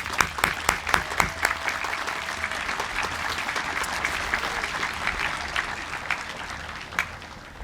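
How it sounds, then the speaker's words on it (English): Sustained applause fills a graduation ceremony hall, opening with a few sharp, distinct claps before swelling into a steady, dense wash from a large audience, then thinning slightly toward the end. "Let's give them a special round of applause."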